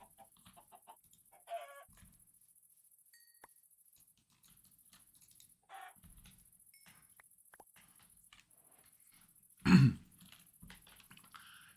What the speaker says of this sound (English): So there's chickens around.